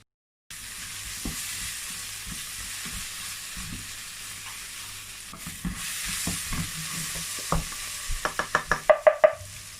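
Beef pepper soup frying in a pan with a steady sizzle, stirred now and then with soft scraping strokes, followed near the end by a quick run of sharp, louder taps against the pan.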